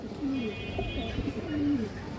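An old-breed black dobash pigeon with a stubby beak gives low, throaty coos at close range, two or three drawn-out calls over a soft background.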